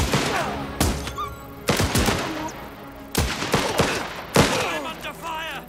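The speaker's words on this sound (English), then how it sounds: "I'm under fire!" Gunfire in the game Last Train Home during a battle at Baikalovo, several loud bursts of shots spaced about a second apart, each ringing out with echoing tails.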